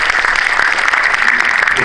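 Indoor audience applause greeting honored guests at a Christian private school vision ceremony held as a worship service in a memorial hall, dense steady clapping filling the short stretch without pause.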